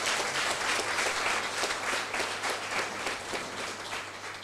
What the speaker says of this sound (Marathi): सगळ्यांनी प्रत्येकासाठी एकदा जोरदार टाळ्या वाजवा.